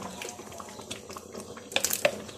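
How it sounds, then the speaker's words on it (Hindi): Water poured over rice in a food processor jug while making carrot kheer, a light liquid splashing and trickling that rises to a few brighter splashes near the end, heard close by. "चावल लेके फूड प्रोसेसर के जग में डाल के थोड़ा सा साथ पानी ऐड करेंगे"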